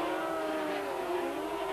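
Racing sidecar outfits at the 1990 Swedish Grand Prix scream past with high-revving two-stroke engines, a loud, continuous wailing drone that rises and shifts in pitch as the machines blast along the track.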